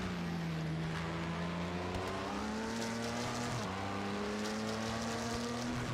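A race car engine in a Le Mans endurance racing video game drones close and loud, its pitch climbing steadily through the gears with a brief dip during an overtake of an LMP2 car, running continuously without any talk.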